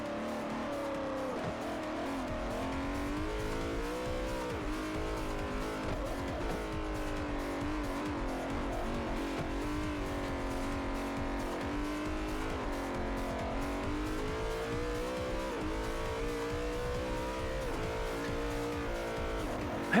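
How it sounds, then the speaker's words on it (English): A racing car engine in Forza Motorsport 4 drones continuously, pitch rising and falling as it accelerates and shifts, with occasional tire squeal; steady and loud, no talking. "I have no idea what engine sound's actually supposed to sound like"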